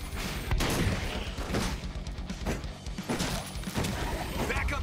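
Gunfire in the video game Werewolf: The Apocalypse sounds as a dense, rolling series of sharp shots and thuds within busy game audio.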